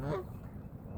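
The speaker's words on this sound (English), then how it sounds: "There's too many geese out here." Geese honking at a pond among a mixed flock of ducks and geese, one brief harsh honk at the start, then quiet, faint background with light rustling.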